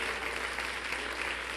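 A standing congregation applauds during a church service, a dense, steady wash of many hands clapping together that holds evenly from start to finish.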